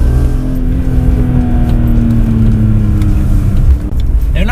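A BMW M3 E46 with its naturally aspirated inline-six drones steadily from close by while driving, holding a continuous, even engine tone throughout with no pauses.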